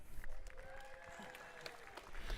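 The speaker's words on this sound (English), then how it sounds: "Always the biggest cheer from the crowd" A crowd at a STIHL Timbersports men's championship in New Zealand applauds and cheers steadily for a competitor, a distant, sustained wash of clapping with a commentator's voice faintly over it.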